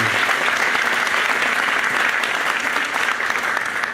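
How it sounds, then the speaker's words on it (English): Loud, sustained applause from a crowd at a university event at NC A&T, a dense, even roar of clapping hands filling the whole stretch with no speech over it. "Let's give them all a rousing round of applause"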